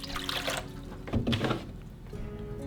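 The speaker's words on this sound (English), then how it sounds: "I'm gonna take this super fine microfiber cloth, and this time I'm gonna add a little bit of distilled water in." Distilled water is poured onto a fine microfiber cloth while cleaning the inside of a headlight lens, a brief close trickle and splash followed by quieter dribbling.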